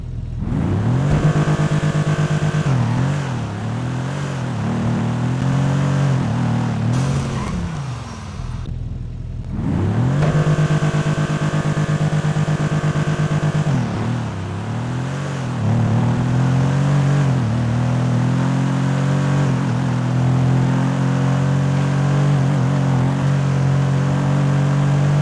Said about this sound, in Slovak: Poďme si teda sadnúť a zistiť, ako zrýchli z 0 na 60 a na 100.